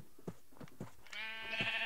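A sheep in the video game Minecraft gives one short, nasal bleat near the end, after a few soft taps, all quiet and alone with no talking.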